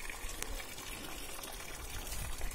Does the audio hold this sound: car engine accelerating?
no